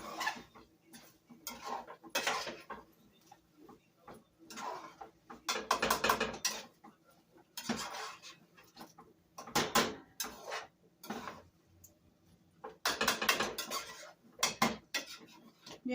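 Metal spoon scraping and knocking against a pot of rice on the stove in irregular bursts, close and fairly quiet, with pauses between clusters of clinks.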